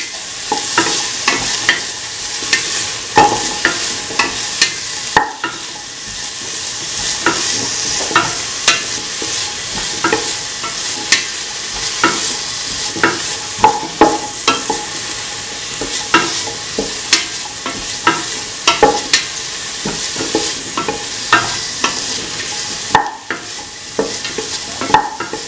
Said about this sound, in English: hot caramel, put in the shallots